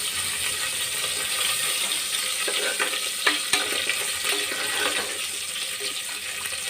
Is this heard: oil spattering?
yes